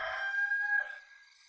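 A rooster crows at daybreak in the Warcraft 3 video game, one clear drawn-out cock-a-doodle-doo call, bright and fairly close, fading at the end with no talk over it.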